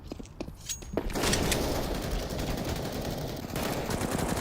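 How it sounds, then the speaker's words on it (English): FAMAS rifle fire in a Counter-Strike match at a pro esports event: a few sharp clicks at first, then a dense sustained burst of rapid automatic gunfire continues loudly for several seconds. "I'm hearing a FAMAS."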